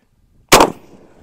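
A single shotgun blast fires a slug at a target outdoors, one sharp, loud report breaking from silence and fading with a short echoing tail.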